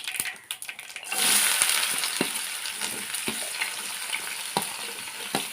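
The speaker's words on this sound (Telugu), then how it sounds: "ఉల్లిపాయలు వేసేసుకుందాం" Onions frying in hot oil in a pan with mustard seeds and cumin, for a brinjal and coriander curry: a loud, steady sizzle swells after a quieter start, with scattered crackles and clinks of stirring.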